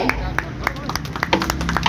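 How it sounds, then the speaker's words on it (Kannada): Scattered claps from a crowd at the inauguration of the Emmadi Silver jewellery shop in Malleshwaram, brief and uneven, mixed with background voices. "ಬನ್ನಿ ಒಂದು ಜೋರಾದ ಚಪ್ಪಾಳೆ"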